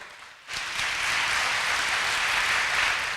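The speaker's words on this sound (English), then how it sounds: "can you clap for me?" A crowd at a youth festival at Mt. Kenya University breaks into dense, sustained applause that starts abruptly and holds steady for a few seconds, loud and close, with no talking over it.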